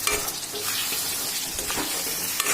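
A mutton pickle mixture is stirred in a pan, giving steady scraping and sizzling with faint clatter from the spoon, close and continuous.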